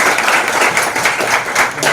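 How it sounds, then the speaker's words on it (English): Brief, loud burst of audience applause at a national pitch competition in Burundi, with many hands clapping densely and evenly for about two seconds. "Clap for him."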